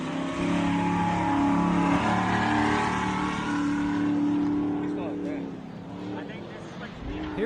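An off-road race vehicle at an off-road racing event roars past with a loud, sustained engine drone that swells and then fades as it moves away, while a commentator talks over it.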